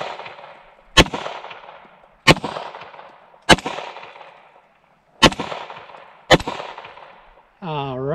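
Five sharp, loud pistol shots ring against steel targets at the range, evenly spaced, each with a ringing decay. A brief voice follows the last shot.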